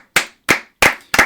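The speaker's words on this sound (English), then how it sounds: "So another round of applause for the Astros." A single person claps four times in an even, unhurried rhythm, each sharp clap close and distinct with short silence between, in a podcast about the Houston Astros.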